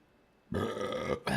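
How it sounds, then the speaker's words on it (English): One loud, close burp rumbles for most of a second, breaks off briefly, then resumes, heard alone without talking. "Derailed myself with a burp"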